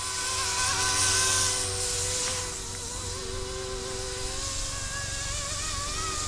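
A Yuxiang F06 RC helicopter's rotor spins up for takeoff, a steady, close, droning buzz with a high whine that holds throughout and dips slightly after the first couple of seconds.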